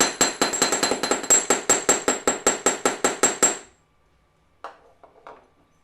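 A steady run of quick, bright metallic hammer strikes texturing a copper ring, close and loud, roughly fifteen blows before stopping abruptly, followed by a few faint handling clicks and knocks.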